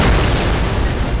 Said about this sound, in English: Berkan allows us to get jump scared by a loud explosion